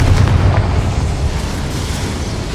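Fiery spell blast from a Hogwarts Legacy duel inside a goblin mine, a dense rumbling explosion with heavy low boom that rolls on steadily for a couple of seconds, loud and close.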